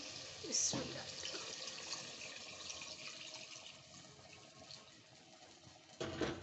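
Water poured from a glass into fried masala for aloo gosht in a cooking pot, a steady gushing and sizzling stream that fades to a low simmer, with a brief splash at the end.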